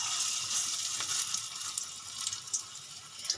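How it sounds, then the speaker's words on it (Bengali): Jute-leaf fritters fry in hot oil in a wok, a soft steady crackling sizzle heard close up and fairly quiet, with no voices. "আমি এবারে এক এক করে পাট শাকের বড়াগুলো ভেজে নেব"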